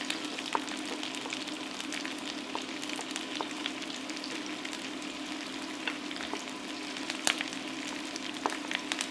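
Bell peppers and a large carrot frying in a pan with tofu, giving a steady, close sizzle with faint crackles and pops throughout and no voices.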